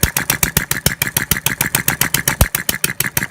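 Small scratch-built hit and miss model engine running under load with the governor held off, firing steadily every cycle in a rapid, even chuff-and-thump rhythm, close and loud with no talking.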